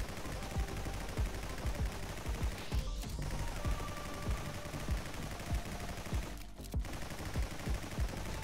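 Rapid gunfire in the video game Nimrods: Guncraft Survivor, a dense and steady stream of quick shots that hold on for several seconds at a fairly even loudness.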